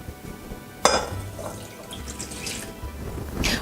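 Lukewarm milk poured into a bowl of yeast for pizza dough, a steady, close liquid trickle with a sharp splash near the start and a brighter gush at the end.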